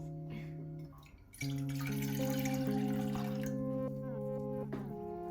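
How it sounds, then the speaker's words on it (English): Water pours into a pot with a hollow, rising gurgle, rushing steadily for a few seconds under soft background music. "Prepare 360 milliliters of water in a pot."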